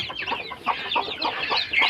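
A mother hen makes a series of soft, rapid clucks and murmuring calls, close by, with a rhythmic, repeated pattern and no talking.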